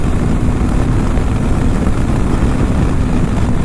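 A TVS RTX300 300cc motorcycle cruising at high speed, a dense, constant engine drone blended with heavy wind rush, loud and unbroken with no voices.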